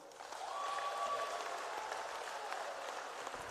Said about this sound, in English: May we please give them a big round of applause.